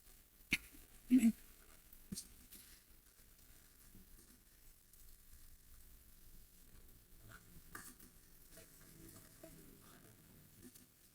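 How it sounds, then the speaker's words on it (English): Canned pumpkin scraped out of the can with a spoon and stirred into bread batter, a few sharp clinks and thumps early on, then quiet soft scraping and wet stirring close by. "Now to add the pumpkin."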